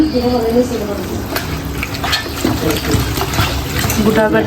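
Mutton being stirred in a pan with coriander powder and ginger paste for a biryani, a steady wet scraping and sizzle running throughout with intermittent clinks of the spoon, while a voice talks over it.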